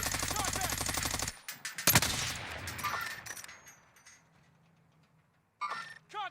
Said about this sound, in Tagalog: Oh, sniper.